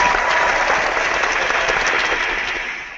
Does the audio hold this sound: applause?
yes